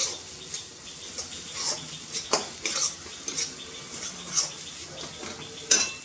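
Food is stirred and mixed in a cooking pan with a utensil, giving repeated scraping clinks against the metal over a soft background sizzle.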